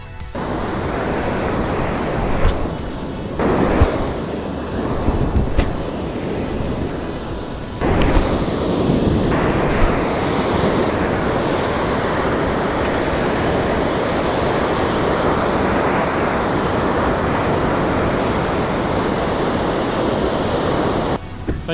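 Ocean surf breaking steadily on a beach during a fishing outing, a continuous loud wash of waves with heavier crashes near the start and around the eighth second, with wind buffeting the microphone.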